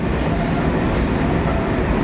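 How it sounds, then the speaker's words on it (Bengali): An empty freight train rolls past nearby, giving a loud, dense, continuous rumble and roar of wheels on track, with no voices heard over it. "ওই পাশ দিয়ে একটা মালগাড়ি যাচ্ছে"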